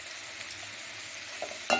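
Chicken and egg stir-fry stirred in a pan, a quiet steady sizzle with a few soft scraping clicks of the spatula, the loudest scrape near the end.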